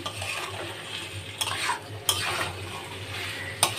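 Spice paste sautéed in a wok, with a continuous close sizzle and a few sharp scraping strokes of a spatula against the metal, and no talking.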